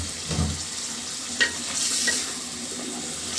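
Washed taro pieces are stirred into spice masala frying in a pan, giving a steady hiss of sizzling oil with a few soft scrapes and knocks of the spoon, close and without talk.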